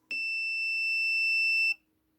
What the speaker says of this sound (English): I choose here the buzzer.